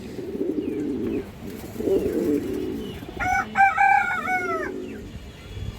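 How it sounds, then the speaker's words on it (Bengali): Silver female pigeons, sold as strong high flyers, coo in a few soft, low bursts. A brief clucking call sounds partway through, near and without talk. "খুব সুন্দর একটা মাদি কবুতর"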